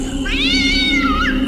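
A cat gives a loud, drawn-out meow at night, rising and then falling in one long wavering call close by, with no one talking.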